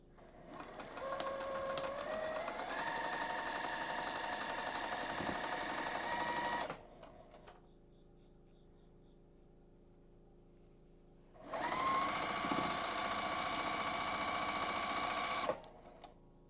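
A sewing machine stitches a Friendship Star quilt block seam in two long runs, its motor whirring and climbing in pitch, separated by a few seconds of quiet.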